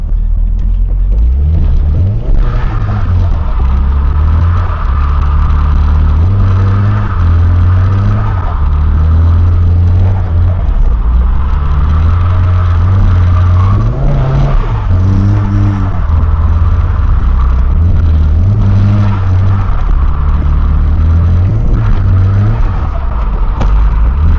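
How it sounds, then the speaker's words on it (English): Micah's drift car with an open differential and no extra steering angle runs on track at Ebisu Circuit in Japan, its engine loud and close, revving and falling repeatedly in steady throttle pulses, with no talk. "then we are gonna go ahead and rip Micah's car for the very first time"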